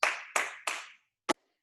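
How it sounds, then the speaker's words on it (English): A class claps three times in unison, three sharp bursts about a third of a second apart with short ringing tails in a reverberant room, followed by one quieter, softer clap a moment later. "3 claps."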